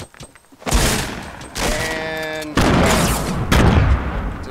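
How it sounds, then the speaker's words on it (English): Several grenades explode in quick succession in the Fortnite video game, loud booming blasts with rumbling tails, each burst following closely on the last. "I'm going to throw some nades"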